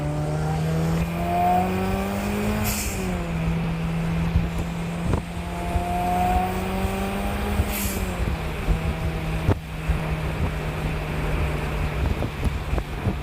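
A 2005 Honda S2000 running on E85 pulls hard after a shift into fourth gear, its engine note climbing in pitch, then dropping at a gear change and rising again. The sound is loud and close from inside the car, with wind noise and no talking.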